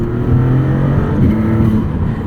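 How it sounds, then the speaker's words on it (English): A 2022 Maserati MC20 sports car accelerates, its engine a loud, steady drone with rising tones, heard close from inside the cabin without talk. "I haven't been in a car that rockets forward with this level of responsiveness in a long time."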